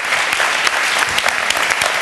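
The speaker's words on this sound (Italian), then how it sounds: "Applauso!" Brief burst of lively, close applause from a workshop audience at a sports journalism session, dense clapping with scattered sharper claps.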